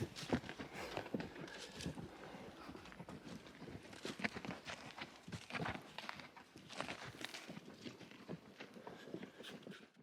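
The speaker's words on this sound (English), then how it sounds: "That's the horse I'm riding," A pack horse, a mare, plods along a wilderness trail in the Emigrant Wilderness on a camping trip, hooves thudding and clopping in an uneven, continuous rhythm up close, with faint rustling around them.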